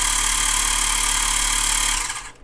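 A portable battery-powered tire inflator pumps air, a loud steady buzzing motor drone with a pulsing rhythm, close by, running for two seconds before winding down and cutting off.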